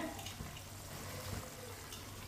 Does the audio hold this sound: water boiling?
yes